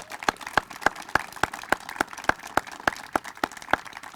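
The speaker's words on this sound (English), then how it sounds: "Please give them a big round of applause." Applause for a county Recreation and Parks team at the Phase 3 opening of Blandair Park: a steady run of about fourteen evenly spaced, sharp claps, close and clear with no talk over them.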